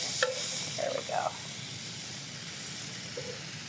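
Food sizzles and hisses steadily on a hot indoor griddle, a soft continuous frying hiss with a few brief clinks or scrapes near the start.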